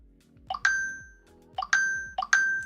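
A phone sounds three notification alerts, each a quick double chime of bright bell-like dings followed by a ringing decay, spaced roughly evenly and heard clearly without talk.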